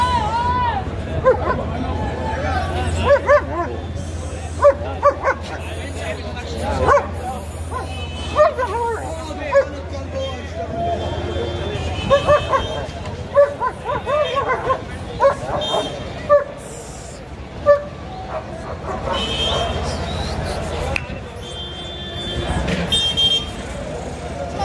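Guard dogs bark repeatedly at a Friday dog market in Egypt, sharp barks recurring throughout over a busy crowd hubbub, with people talking nearby and some traffic in the background.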